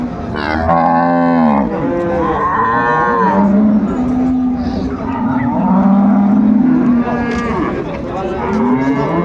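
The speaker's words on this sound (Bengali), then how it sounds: "গাভী বাছুর আমরা দেখছিলাম এখানে" Several cows and calves moo loudly and repeatedly nearby at a livestock market, their long calls overlapping, with a murmur of crowd noise in the background.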